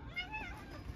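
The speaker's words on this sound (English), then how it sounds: "Is that Kitty Witty banging at the door" A cat meowing close by at a door during rain, one short rising-and-falling meow.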